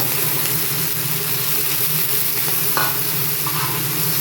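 Goat lungs frying in a pan with onion and fresh fenugreek leaves, a loud, constant sizzle and hiss with a few brief scraping stirs, no talking.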